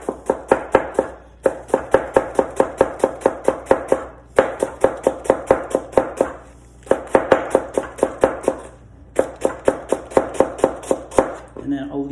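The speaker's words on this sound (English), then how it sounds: "I'm gonna cut it in half just so I can slice it" A knife slices through a lettuce heart on a cutting board for a house salad, with rapid, even, crisp chopping strokes in several bursts separated by brief pauses, close and clear.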